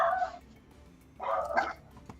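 Dog barking in a tabletop game session soundtrack: two short bursts of barking, the second louder and rougher, standing alone without talk at moderate distance.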